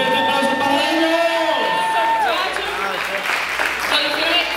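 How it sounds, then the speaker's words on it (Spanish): A festival crowd claps and cheers for second-place winners at an awards ceremony, with whoops and shouting voices layered over steady applause. "¡Un fuerte aplauso para ellos!"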